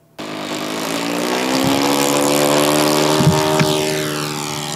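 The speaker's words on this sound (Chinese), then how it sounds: "跑道上引擎声轰隆隆，" Engine of a remote-control model airplane roaring on a runway at a riverside RC airfield, a loud, steady propeller drone that rises and sweeps in pitch as it accelerates, alone without talk.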